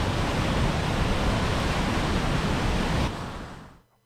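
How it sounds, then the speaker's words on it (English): Loud, steady rush of flowing spring water at Caesarea Philippi (Banias), constant and close, cutting off abruptly near the end. "This is all spring water."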